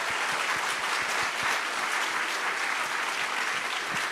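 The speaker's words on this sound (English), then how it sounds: "Let's get one more round of applause for everyone who was honored tonight." A full round of applause from the audience at an awards ceremony honoring recipients, dense and steady clapping throughout with no voices over it.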